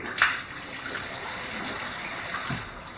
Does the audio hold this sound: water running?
yes